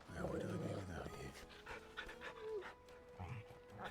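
Torgal, the wolf-dog companion in Final Fantasy XVI, pants in quick rhythmic breaths, fairly faint and close, with brief whimpering tones mixed with other game sounds.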